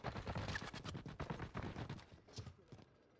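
Rapid bursts of gunfire in the battle royale game Warzone, dense overlapping shots crackling close and loud for most of the moment before thinning out near the end.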